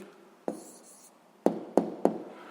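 Pen or chalk strokes writing an answer in a physics exercise: a few sharp, short taps and scratches, isolated and close, separated by brief quiet gaps.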